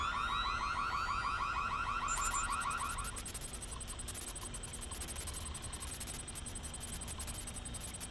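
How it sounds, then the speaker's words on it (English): A bank alarm in Splinter Cell: Chaos Theory rings loudly and continuously, a rapid warbling siren pattern that shifts to a harsher, steadier electronic buzzing partway through, with no voices. "watch the alarms"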